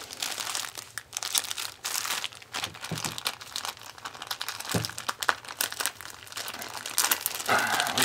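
A large plastic parcel package being handled and torn open, with close, continuous crinkling and rustling plastic and a few sharper tearing bursts, no voices.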